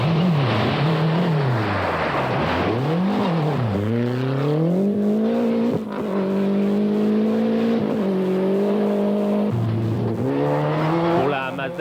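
A Lancia rally car engine in a 1989 rally video game drones loud and near at full turbo boost, pitch rising and falling through gear changes, with sustained high revs between shifts.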